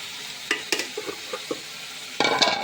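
Food sizzles in a pan with a few scraping stirs, ending in a louder burst of frying.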